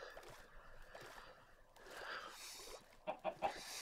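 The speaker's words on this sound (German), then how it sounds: "Halt die Fresse, Huhn." A chicken in the Minecraft video game gives several quick, faint clucks near the end, after a quiet stretch of soft background game noise.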